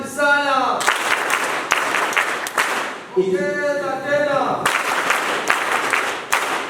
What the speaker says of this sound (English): I want us to clap for Hon.Lydia Wanyoto for winning the election of Palestine.